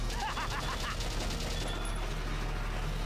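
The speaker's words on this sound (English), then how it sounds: "But can you stop shooting him?" Rapid gunfire volleys from a battlefield firefight in the video game Valkyria Chronicles, a dense steady clatter of shots under a constant wash of game noise, with a voice faintly present.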